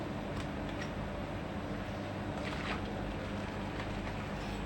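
An Arçelik YPS9103 9 kg washing machine on a 90°C cotton towel wash draws in water, a steady close hissing rush with a low hum beneath, continuous and even with no voices.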